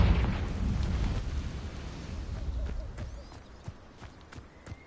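A Confringo spell explosion in the Hogwarts Legacy video game opens with a loud, rumbling burst that fades over a few seconds, followed by scattered fainter pops and clicks.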